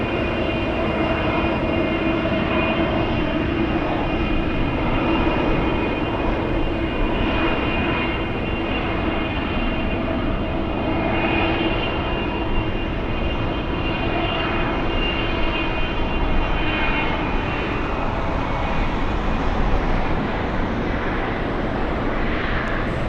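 A FedEx cargo plane takes off at Anchorage airport, a steady loud jet engine roar that holds for over twenty seconds with a faint tonal whine on top and no talking.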